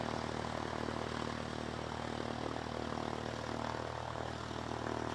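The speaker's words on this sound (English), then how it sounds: "the prop noise is sort of drowning it out a little bit" An aircraft propeller at an aero club produces a steady, droning hum with a constant engine tone and no breaks.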